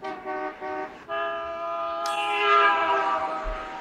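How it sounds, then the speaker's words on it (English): A car horn in the 1981 horror film The Evil Dead, sounding as a sustained, tonal blare that cuts out and resumes a few times before a sharper, brighter burst near the end, loud and with no talk over it. "The only thing that does work is this lousy horn."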